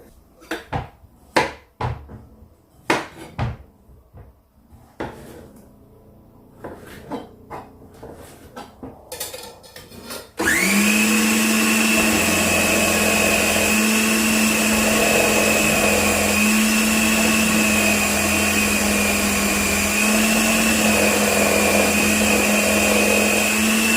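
A food processor grates courgettes for a ratatouille, coming in after a run of clattering kitchen clinks and knocks, then holding a loud, steady motor whine to the end.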